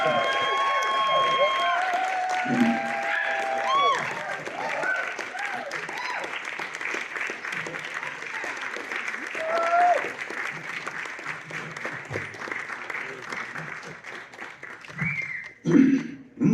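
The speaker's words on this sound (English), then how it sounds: "that's a cue for applause" Audience applause and some cheering at a live comedy stage show, sustained crowd clapping for over fifteen seconds, with voices and scattered calls mixed in and a burst of noise near the end.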